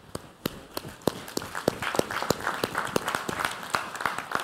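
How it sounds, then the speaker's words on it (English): A church congregation claps hands during a sermon, sharp and fairly close claps in a loose rhythm with a murmur of voices underneath. "Give him a hand clap, y'all."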